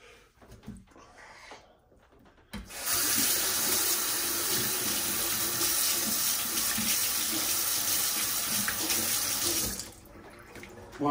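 Tap water runs steadily from a faucet over Singer 431 G motor parts being washed in a sink, a loud continuous gush that starts after a short pause and cuts off near the end.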